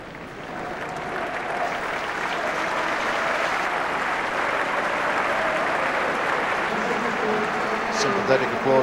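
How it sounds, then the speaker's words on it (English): Football crowd gives sustained, swelling applause for an injured player being replaced, a broad steady wash of clapping across a stadium with a commentator's voice over it. "Sympathetic applause for Gaetano Giolanza."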